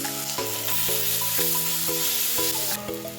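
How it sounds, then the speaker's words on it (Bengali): Ginger garlic paste fries in a pan over low heat with a little water, giving a steady, close sizzle throughout, with sustained tonal notes shifting underneath. "আদা রসুনের যে পেস্টটা ছিল সেটাকে অ্যাড করে দেবো এবং সেটাকে খুব সুন্দর করে কম আঁচে ভালো করে ধীরে ধীরে অল্প জল দিয়ে ভেজে নেব"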